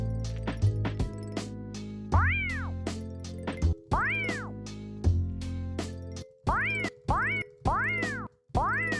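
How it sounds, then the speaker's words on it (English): Repeated cat meows, sliding rising-then-falling cries, sound over a steady synth beat with percussive hits in a spooky Halloween-style track, loud and close, about eight calls in a rhythmic pattern. "Sounds like a cat."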